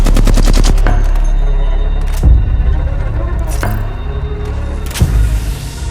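Video game gunfire hits hard and close: a rapid automatic burst opens, then single heavy shots crack out at intervals over a loud, dense backdrop.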